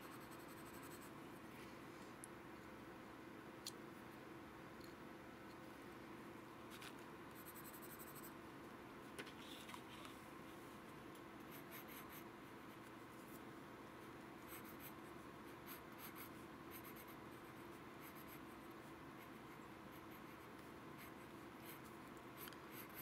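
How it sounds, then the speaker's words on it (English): Pencil jotting block letters on paper during a lettering demonstration: steady, continuous scratchy graphite strokes, close and fairly quiet, with no talk. "So I'm quickly jotting in some block letters that I'm then going to ink for you guys"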